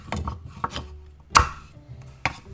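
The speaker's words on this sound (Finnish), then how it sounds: "Porkkanat mä aina itse pilkon silleen, että mä otan sen tuosta keskeltä halki." Knife chopping carrots on a cutting board while cooking creamy salmon soup, several sharp, close taps at uneven intervals with one heavier thud in the middle.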